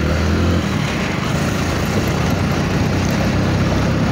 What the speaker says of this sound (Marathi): हे बघा ट्रॅक्टर कसला चालवायला लागला खतरनाक.